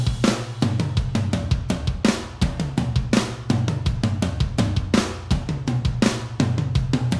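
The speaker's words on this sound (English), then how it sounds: "I found this tom feel idea. Just it's like riding the toms" A pre-made Steven Slate Drums pattern riding the toms: a steady, driving groove of booming tom hits layered with crisp cymbal and snare strikes, looping rhythmically, close and loud with no voices.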